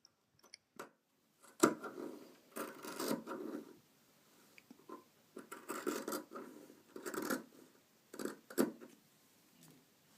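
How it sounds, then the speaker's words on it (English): Scissors trimming the fabric seam allowance around a neckline, heard as close, quiet bursts of snipping and rustling cloth in an irregular rhythm with short pauses between cuts. "Trim the seam allowance to about half the width to take away some of the bulk or the thickness of so much fabric around the neck"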